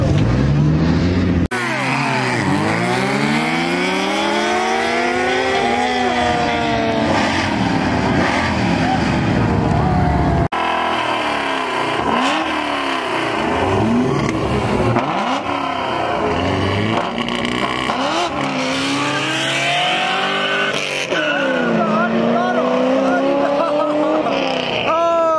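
An SUV races alongside a motorcycle, and loud engines rev up and sweep through repeated rising and falling pitch as the vehicles accelerate hard and shift gears. Voices talk over the roaring passes.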